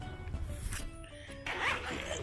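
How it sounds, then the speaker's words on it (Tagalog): Zipper on the canopy of a pocket stroller, a few quick rasping pulls close by, short and crisp with brief pauses between strokes. "dito sa likod, meron siyang dalawang zipper."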